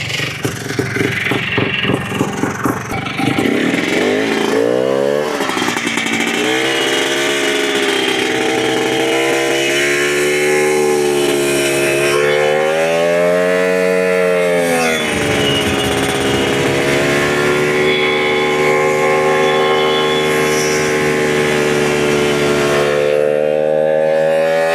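A restored, once-abandoned Polaris TrailBlazer 250 ATV engine runs steadily and close by, revving up and down in long rising and falling swells over a constant buzzy drone.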